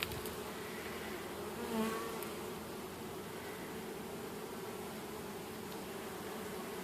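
Honeybees in a growing colony hum steadily during a springtime hive inspection, a dense continuous buzz close by, with a slightly louder swell partway through and no voices.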